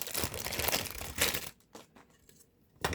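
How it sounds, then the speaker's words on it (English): Plastic bag crinkles loudly and close as a small 1/32 scale Aoshima Suzuki Jimny model car body is pulled out, followed by a few softer rustles and a final crackle. "Take the body out of that plastic bag."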